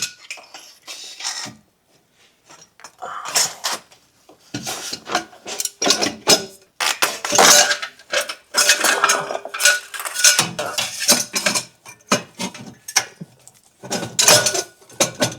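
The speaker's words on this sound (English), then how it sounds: "time to put the new downpipe in" Fitting a new downpipe with a V-band clamp onto a BMW brings dense metallic clanks, scrapes and ratcheting tool clicks in irregular bursts, close by, with no talking.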